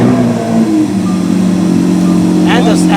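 A sports car engine starts and idles with a deep, steady rumble, briefly revving slightly; fairly close and continuous throughout.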